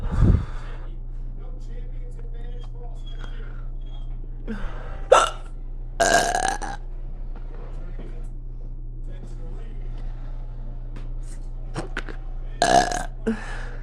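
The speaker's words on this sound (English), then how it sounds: "It's hard to just stand here and look cute while I have the hiccups." Hiccups and burps come in several short, sharp bursts spread across a quiet, steady background hum, with a couple of louder bursts standing out near the middle and end.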